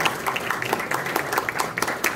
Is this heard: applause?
yes